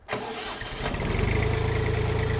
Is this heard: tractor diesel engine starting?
yes